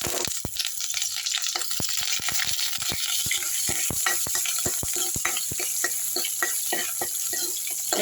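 Dried chillies, garlic and curry leaves fry in hot tempering oil after mustard seeds have popped, giving a dense, close crackle of rapid sharp pops over a constant sizzle.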